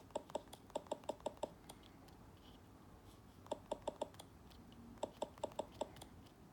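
Taps on the Google keyboard of a Google Pixel 2 XL phone come in quick bursts of crisp clicks with short pauses between groups, quiet and close, with no voice.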